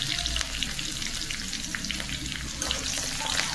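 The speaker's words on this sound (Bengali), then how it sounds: "মির্চি দেওয়ার পরে ফাটে" Green chillies crackle and sizzle in hot oil alongside chopped garlic and ginger for chicken chowmein, a close, busy frying hiss with sharp pops scattered throughout.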